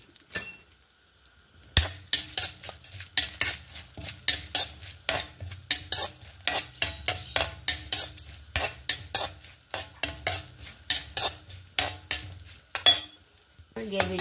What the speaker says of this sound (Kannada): ಗೇರು ಬೀಜ ಒಂಚೂರು ಹುರ್ಕೊಂಬ